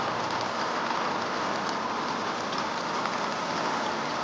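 Steady rain falls alone, a dense, even hiss of drops pattering on surfaces with no pauses, fairly loud and close.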